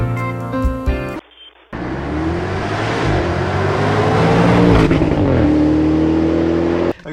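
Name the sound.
Land Rover Defender V8 with QuickSilver Sound Architect exhaust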